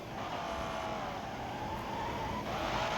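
Race car in the Assoluto Racing game, its steady engine drone carrying on throughout with tires squealing and skidding on top, close and fairly loud.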